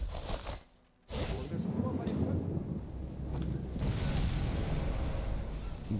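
A grenade goes off in Sniper Elite 3: Afrika. After a brief hush, a loud, deep boom breaks in and gives way to a sustained heavy rumble, with a voice talking over it.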